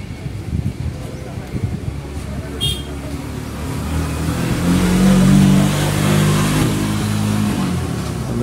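A car arriving with its engine revving, a rising mid-pitched roar that swells and holds near the middle before easing off, with scattered talk and knocks early on.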